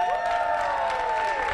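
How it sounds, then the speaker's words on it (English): About thirty students in a studio audience cheer for Red Storm basketball: a brief, dense burst of clapping and whooping close by, with no talk over it. "big cheer if you're a fan of Red Storm basketball"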